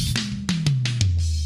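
Drum toms brightened with an SSL EQ plugin roll through a descending fill, several sharp hits with bright attack over a falling low tone, played loud and close in a mixed drum track.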